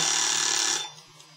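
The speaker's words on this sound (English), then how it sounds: "That's the alarm that something's ready to be taken out of the oven." An oven timer alarm rings loudly in a kitchen during a polymer clay dollhouse baby project, a shrill sustained buzzing tone lasting under a second before cutting off and leaving quiet.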